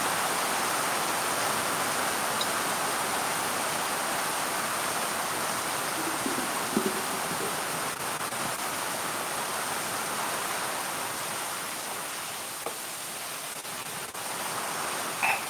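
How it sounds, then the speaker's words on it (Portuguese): Heavy rain pours down outside in a steady, dense wash of noise that holds level for a long stretch, broken only by a few faint knocks, with no one speaking. "Vocês estão ouvindo o barulho da chuva?"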